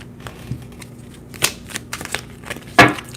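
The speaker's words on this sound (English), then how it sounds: "Let me shuffle up the cards." Tarot cards shuffled up close in a few short bursts, with scattered crisp clicks and a sharper riffle near the end.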